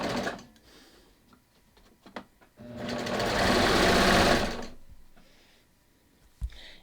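A sewing machine stitching a shelf bra for a bathing suit runs in one close, steady burst of about two seconds, between short handling clicks and quiet pauses.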